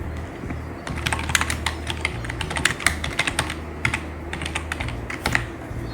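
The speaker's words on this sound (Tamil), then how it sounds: "இப்போ சாம்பிள் நம்ம ஒரு டெக்ஸ்ட் க்ரியேட் பண்ணாலும் நான் டைப் பண்ணுறேன்." Rapid typing on a computer keyboard, close and clear, with irregular bursts of sharp key clicks and a steady low hum underneath, no voices.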